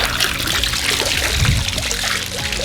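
Water trickles and dribbles out of a hot tub filter container as it drains, a steady close pouring sound with small splashes throughout, fairly loud and alone.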